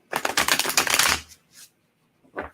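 A deck of cards being shuffled in a quick riffle lasting about a second, followed by a couple of softer card flicks and taps.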